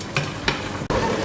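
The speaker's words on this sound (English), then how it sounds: "So my meat is boiling already, the assorted meat." Assorted meat boiling in a pot for Cameroonian eru, a steady broadband bubbling and simmering hiss with a few brief louder clinks or stirs, close and continuous with a short dip near the end.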